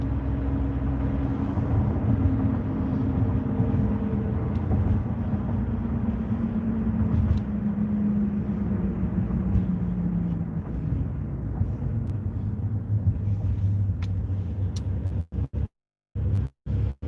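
Steady road rumble and engine drone from inside a moving car, continuous and loud for most of the stretch before cutting out in choppy gaps near the end, with no talk.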